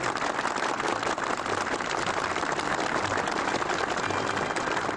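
Sustained audience applause at a televised military competition ceremony honoring the winning team of a combined brigade of the PLA 82nd Group Army. Dense, even clapping fills the whole stretch at a constant level with no pauses.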